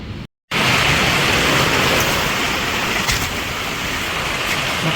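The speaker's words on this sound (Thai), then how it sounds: "ฝนตกนะครับ" Heavy rain pours down in a dense, steady hiss, continuing evenly after a brief dropout near the start.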